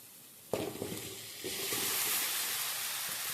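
Soaked cassava hits a pan of frying onions with a sudden thump and sputter, then a steady, moderately loud sizzle that builds and holds.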